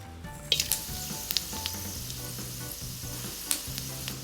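Whole garam masala spices sizzle and crackle in hot oil in a pan, a continuous close frying hiss dotted with sharp little pops and clinks of the spoon.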